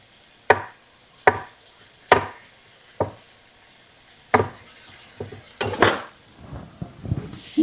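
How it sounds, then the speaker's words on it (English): A knife chops mushrooms on a cutting board in a home kitchen, with a series of close, sharp thuds spaced about a second apart, then quicker, busier knocks and scrapes. "let's cut us some mushrooms"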